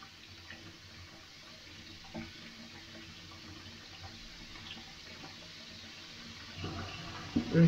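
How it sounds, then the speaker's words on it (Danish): Tap water runs steadily into a container, a continuous gentle rushing stream at moderate level that swells slightly toward the end. "lad os putte vand i den her."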